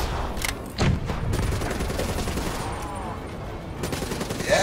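Rapid automatic gunfire from an extended-magazine, rapid-fire weapon in Black Ops 3 Nightmares mode, a steady dense stream of shots with a couple of louder bursts, with no talk over it.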